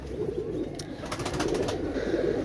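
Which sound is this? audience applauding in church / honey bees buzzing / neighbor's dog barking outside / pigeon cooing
pigeon cooing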